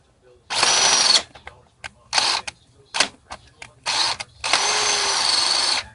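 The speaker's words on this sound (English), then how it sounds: "I use an 18-volt snap-on cordless drill for this part." An 18-volt Snap-on cordless drill whirs in several bursts while installing a Time-Sert insert for a Toyota Camry head bolt repair, a long run then short stop-start triggers, ending with another sustained stretch of drilling.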